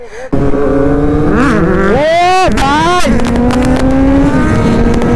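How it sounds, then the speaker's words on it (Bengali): Kawasaki Z900 motorcycle held in a long wheelie, its engine loud and close with rising and falling revs, sharp pitch sweeps between gear changes, and a voice speaking over the roar. "ভাই কতটা লং উইলি মারলো রাজু।"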